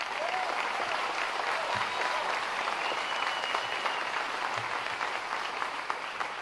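A crowd at an event announcing an amusement park in Vinita, Oklahoma, gives sustained applause after a performance. The dense clapping stays loud and even throughout, with faint voices mixed in.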